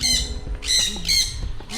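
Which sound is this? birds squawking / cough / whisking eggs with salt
birds squawking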